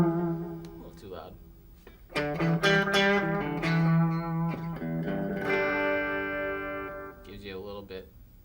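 An electric guitar strums sustained chords with a slightly gritty, lightly overdriven tone, played close and fairly loud.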